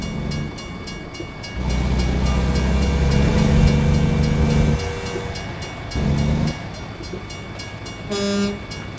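A train rolls past in the American Truck Simulator game, a steady rumbling pass with clattering wheels under constant ambience, swelling louder mid-way, and a brief horn blast near the end.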